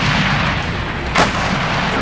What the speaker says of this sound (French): j'ai jamais vu physiquement un tir de canon César